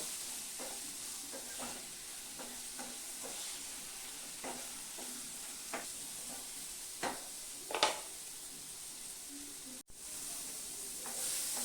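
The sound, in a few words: frying vegetable stalks and potatoes in a pan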